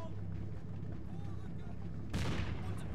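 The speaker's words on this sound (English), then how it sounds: "Oh, they're shooting at my commander." Combat Mission: Fortress Italy wartime battle with steady rumbling artillery and gunfire in the background, then a sudden loud burst of shooting near the end.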